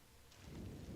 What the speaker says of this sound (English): Now it's rainy and muddy again.